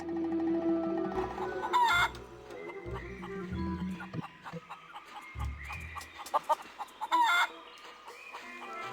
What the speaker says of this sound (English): don't think the chickens are going to help me.